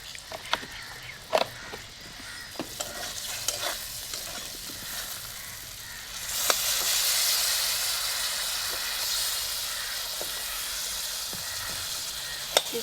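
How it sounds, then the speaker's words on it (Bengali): Potatoes fry and sizzle with ground spices in a pan, with occasional spatula stirs and scrapes, and the sizzle swells louder partway through. Heard up close, with no talk. "এবারে এটা ভালো করে আলুটা ভাজবো।"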